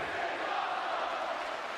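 A wrestling event crowd roars in a dense, steady wash of cheering, loud and continuous throughout, with no distinct individual voices standing out.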